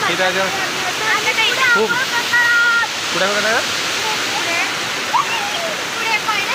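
A waterfall at a bathing spot roars as a loud, steady rush of falling water, while a person talks over it close to the microphone.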